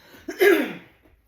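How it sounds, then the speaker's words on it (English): One short, close throat clearing, a rough rasping burst lasting under a second and fading quickly, heard during a quiet yoga session. "Maybe someday I won't have to clear my throat."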